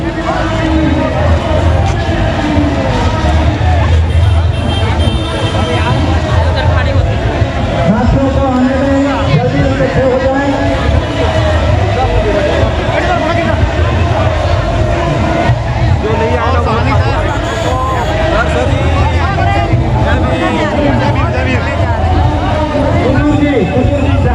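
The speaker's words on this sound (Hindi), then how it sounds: "यहाँ पर सारी जो है भीड़ रैली आकर यहाँ इकट्ठी हो रही है" A crowd gathers at a 2024 SC/ST Bharat Bandh rally at Ambedkar Chowk in Raigarh. Loud, constant babble and street noise fill the air, with a nearby voice talking over the hubbub.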